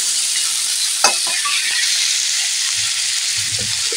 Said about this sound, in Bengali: টমেটো দিয়ে এইভাবে নাড়াচাড়া করে নেব